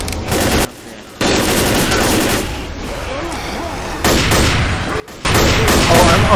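Rapid shotgun and other gunfire in the Left 4 Dead zombie shooter, loud, dense bursts of blasts separated by short gaps, with a player's voice over the shooting.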